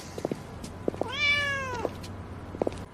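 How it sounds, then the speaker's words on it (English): A stray cat gives a single drawn-out meow, clear and close, with light rustling and small knocks around it. "Vaccinations, checkup, microkip, the stray cat Trepta"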